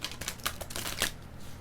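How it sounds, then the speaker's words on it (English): A Star Codes Astro Oracle card deck is given a quick shuffle, with a run of soft, rapid papery riffles and flicks close to the mic and nobody speaking. "I did pre-shuffle the Star Codes Astro Oracle deck too, but I'm just going to give it a quick shuffle"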